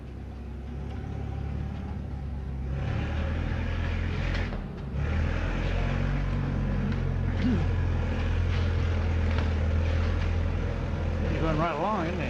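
Pulling tractor engine at a tractor pull in Pottsville, labouring in high gear with a steady loud rumbling drone throughout, with an announcer talking over it.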